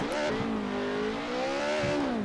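A race car in a DTM racing video game, Alfa 155, BMW M3 or Mercedes 190, laps with a clear engine note that rises and falls through gear changes and revs, steady and close, with no talking.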